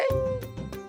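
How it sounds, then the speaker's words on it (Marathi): A pet dog whines with a drawn-out high whimper, then gives a couple of short muffled barks, fairly close. "त्या कुत्र्याने सगळा माझा दिना मुश्किल केला आहे. रात्रीचा रडतो आहे"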